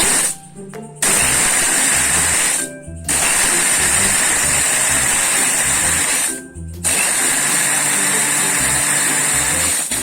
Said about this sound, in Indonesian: Kemudian kita mulai untuk memblender, kita haluskan.